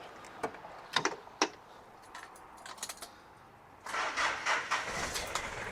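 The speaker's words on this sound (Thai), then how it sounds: "รถสตาร์ททีจะติดนะครับ" A few sharp clicks and a key rattle, then the engine of an Isuzu Avenger seven-seat family car cranks and catches, settling into a running hum.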